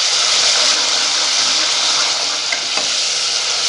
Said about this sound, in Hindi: इनको हल्का सा हम फ्राई करेंगे 2 से 3 मिनट के लिए